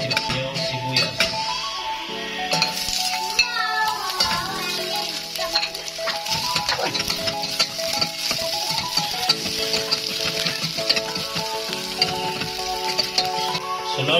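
Garlic and onion sauté in a pan for a coconut soup dish, a loud steady sizzle broken by scraping stirs of a utensil against the metal, heard close and alone without talk.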